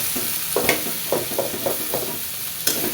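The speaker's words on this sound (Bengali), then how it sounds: "ভাজিগুলো নাড়াচাড়া দিয়ে নিই" Fried vegetables in a hot pan are stirred with a utensil, a constant bright sizzle punctuated by several scraping strokes at irregular intervals, close and clear with no voices.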